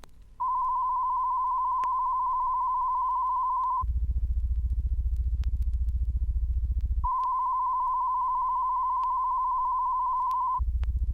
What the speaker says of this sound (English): That's a low-frequency warble tone, and it's used in adjusting the bass control.